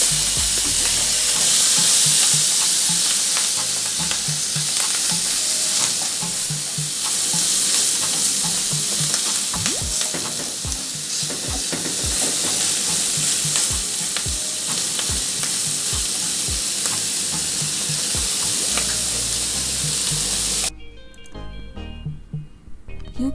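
Shrimp for fried rice go into a hot pot and fry with a loud, dense, continuous sizzle and hiss, stirred with scraping and clattering, until the sound drops away abruptly near the end.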